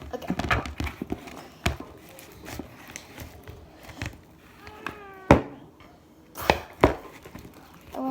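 Metallic slime is stirred and mixed with baking soda, making irregular sticky clicks, taps and squelches at close range, scattered across the whole stretch with a few sharper pops.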